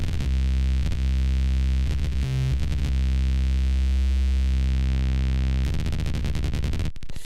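A Zebra3 software synth tone grinds and buzzes as its bias knob is twisted, a dense harmonic drone that warps, thins briefly in the middle and breaks into choppy distortion near the end, loud and steady with no talk.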